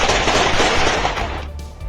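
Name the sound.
gunfire, soldiers shooting at protesters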